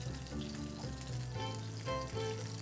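Alaskan red salmon fries in oil in a pan, a steady close sizzle with crackling pops and a low hum throughout, no talking.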